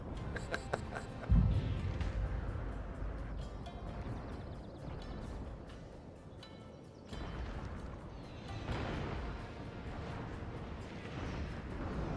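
Artillery fire in a chaotic Shogun 2 video game battle, one loud booming blast near the start followed by rumbling battle din, distant volleys and crackling impacts throughout.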